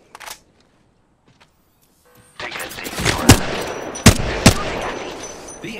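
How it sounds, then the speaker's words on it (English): Enemy gunfire in Apex Legends, starting after a short quiet gap with a rapid stream of automatic shots and several louder cracks standing out close by. "The enemies are shooting at me."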